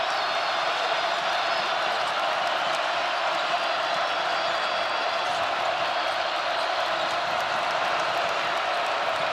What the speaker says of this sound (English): This crowd coming to its feet.